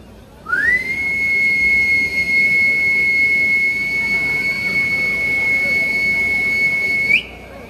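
A single loud, steady whistle holds one high pitch for about seven seconds, made by a human voice imitating it, then stops abruptly.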